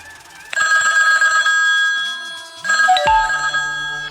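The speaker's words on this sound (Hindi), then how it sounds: "आपके नाम की रिंगटोन बनकर तैयार हो चुकी है" A custom name ringtone from a ringtone website plays loudly and close: a bright electronic telephone-style melody with sustained tones, a short break, then a second phrase ending in a sweeping tone.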